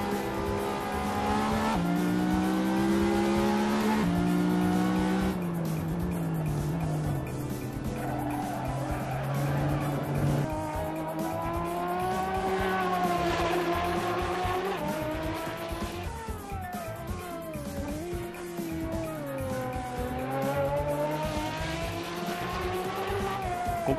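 A racing car in the Assetto Corsa video game on PS4 revs loud and near through gear changes, its engine note rising and falling repeatedly, with tires squealing and skidding through corners.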